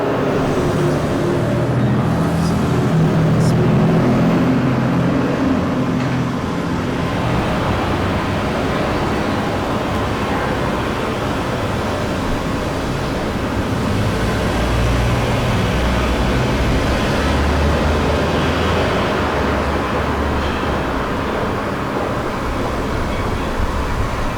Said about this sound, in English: It can be pretty difficult to measure the sound of traffic noise.